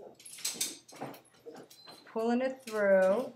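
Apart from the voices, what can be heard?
dog whimpering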